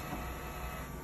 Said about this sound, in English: Once the printer and the Fiery is fully connected, your printer usually will print like this